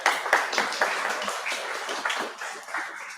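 An audience applauds a guest at a talk on Antarctica and climate change, a steady patter of clapping hands that carries on without a break, no voices over it.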